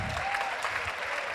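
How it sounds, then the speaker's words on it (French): Brief burst of audience applause at an event, a dense, steady wash of many hands clapping with no voices on top. "On peut les applaudir s'il vous plaît."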